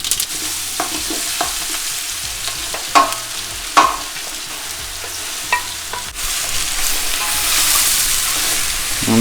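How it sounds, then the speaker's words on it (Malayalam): Mustard seeds splutter and pop in hot coconut oil in a pan while making a simple chicken curry, a steady sizzle broken by sharp, irregular crackles and a few louder pops, close by. "ഓയിൽ ഇപ്പോൾ നന്നായിട്ട് ചൂടായി കഴിഞ്ഞ് നമുക്കിതിലേക്ക് കടുക് ഇട്ട് കൊടുക്കാം"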